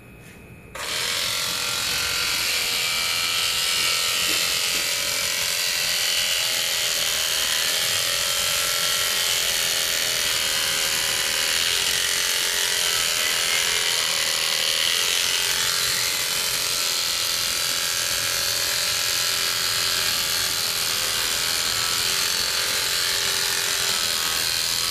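Electric shears fitted with a fine four-cutter blade head buzz steadily and loudly while shearing an animal, starting after a brief moment and running continuously without talk.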